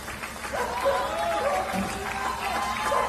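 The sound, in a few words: people cheering from windows for garbage workers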